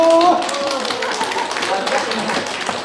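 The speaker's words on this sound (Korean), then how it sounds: "박수!" Audience applause at a senior choir performance in a subway station, continuous clapping with faint tonal sounds and voices in the background.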